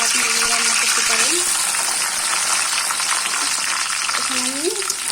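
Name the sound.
frying chopped onion and spices in oil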